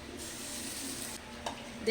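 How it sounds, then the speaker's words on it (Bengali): Mashed jackfruit seed paste frying in hot mustard oil, a steady close sizzle and hiss running throughout with a brief stir near the end. "এইটাকে এখন আমি গরম তেলের মধ্যে দিয়ে দেব"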